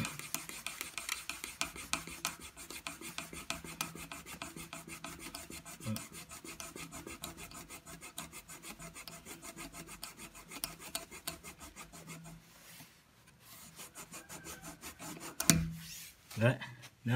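Fast, rhythmic rasping of plastic cement-bag string sawing through PVC pipe, steady for a long stretch, then a few scrapes and knocks near the end.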